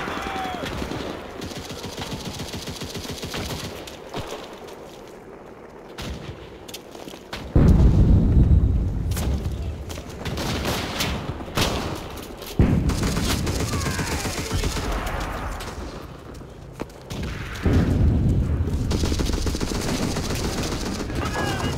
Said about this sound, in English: Artillery, fire at the square.